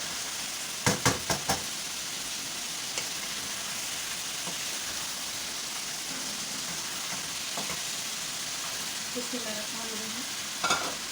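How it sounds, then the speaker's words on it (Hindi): Peeled tomatoes hit a hot frying pan with a few sharp clatters, then a steady sizzle continues under occasional spoon scrapes and stirring. "तो ये 6-7 टमाटर है, इसके हमने छिलके उतार लिए। अब हम ये भी डाल देते हैं।"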